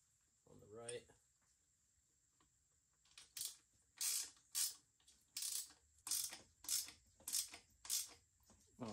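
A hand ratchet tightens motor mount bolts during a Jetson 1500 watt electric scooter motor install, a brief voice early, then rhythmic bursts of clicking strokes repeating steadily and close by.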